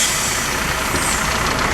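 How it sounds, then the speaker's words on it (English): A cattle transport truck drives off from a farm, a dense, steady rumble of engine and road noise with hissy broadband texture, close and continuous throughout. "Loaded and she's going now. Van's going."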